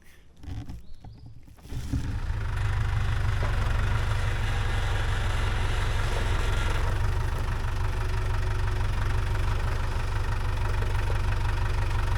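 A tractor engine starts up and settles into a steady, loud, close idle that holds unbroken to the end, its low rumble and mechanical chatter constant throughout, outdoors by a food garden being planted with raised beds.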